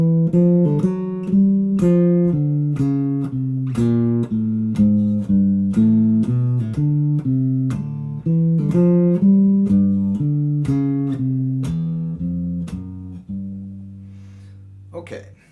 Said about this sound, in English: I have constructed a bass line and it sounds like this.